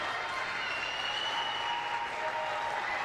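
Spectators at a women's college basketball playoff game clap in a steady, dense wash of applause that fills the gym evenly from start to finish, with no clear voices above it.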